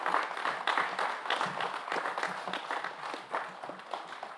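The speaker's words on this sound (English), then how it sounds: "join me in a round of applause to honour those who have done just that" Audience applause during keynote addresses by the Prime Ministers of Samoa and New Zealand, a moderate wash of many hands clapping, fairly faint and continuous, swelling and easing slightly over a few seconds.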